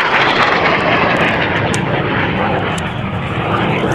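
An A-4 Skyhawk delta-wing jet climbing at the Selfridge Air Show 2022, a loud, sustained roaring engine wash filling the air steadily without letup.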